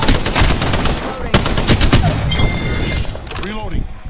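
Rapid bursts of automatic gunfire in Apex Legends rattle close and loud, with dense overlapping shots and a few heavier cracks.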